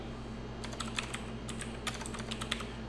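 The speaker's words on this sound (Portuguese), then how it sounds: "E se eu digitar outra coisa" Keys clatter on a computer keyboard in irregular bursts of clicks, typing a short entry at close range over a steady low hum, with no talking.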